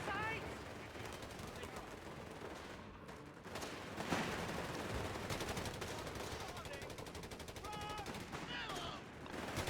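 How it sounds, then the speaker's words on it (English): Sustained automatic machine gun fire crackles continuously through a Company of Heroes 3 battle, dense and busy with overlapping bursts and distant explosions, two machine guns trading fire around a building. "it becomes a bit of a MG versus MG battle there in the building"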